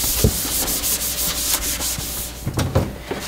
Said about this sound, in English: So I'm gonna clean this counter real quick.